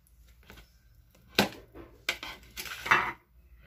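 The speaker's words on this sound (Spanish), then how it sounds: "Abrimos la tapadera con cuidadito." A lid comes off a microwave cooker dish used for dressed potatoes, giving several close, sharp clinks and scrapes of cookware, one louder knock followed by clattering handling sounds.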